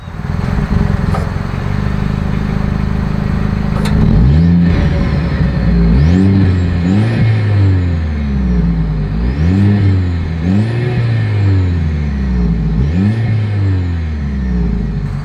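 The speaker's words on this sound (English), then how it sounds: "As always, here is that exhaust clip." A 2025 Mercedes-Benz GLE 350 exhaust idles with a deep burble, then revs repeatedly, the engine climbing and falling in several loud throaty surges close by.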